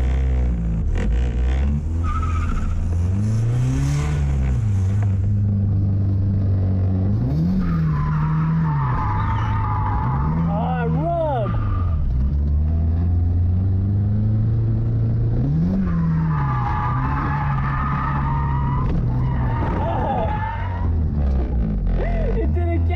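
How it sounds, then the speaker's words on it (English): Car revving hard and skidding during drift practice on an empty lot, with repeated engine rises and falls, tire squeals in bursts, close and loud throughout. "You're gonna have to abuse your clutch. Keeping the revs up."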